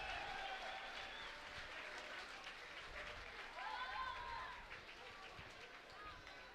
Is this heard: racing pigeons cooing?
no